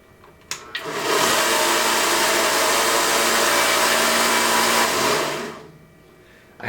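A Harbor Freight 1x30 inch belt sander runs with a shop vac hose attached. It spins up with a couple of clicks into a steady, loud whirring hum that holds for about four seconds, then winds down.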